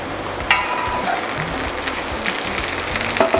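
Browned potatoes frying in a pan with brinjal and tomato added, a moderate steady sizzle with a metallic clank near the start and light stirring taps later.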